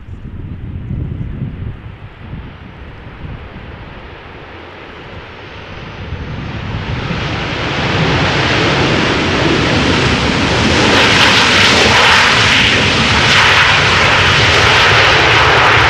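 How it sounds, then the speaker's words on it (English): A Delta Airbus A330 jet takes off from a runway at Amsterdam Schiphol in gusty crosswinds, its engine roar building from a low distant rumble to a loud, sustained broadband thunder over wind noise. "Delta A330 taking off from runway"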